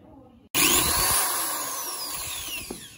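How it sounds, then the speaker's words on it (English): A power drill bores a hole into an organ pipe, whining up sharply after a quiet moment and running steadily with a high pitch that slowly falls as it bites into the material. "with the help of the drill machine."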